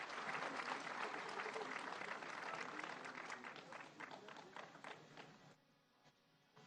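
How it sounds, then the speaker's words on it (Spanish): Applause rises from the crowd at an indigenous community assembly in Amealco de Bonfil, Querétaro, during a ceremonial card handover, sustained clapping that thins out and drops away near the end. "Un fuerte aplauso en esta entrega histórica que hace nuestra presidenta constitucional."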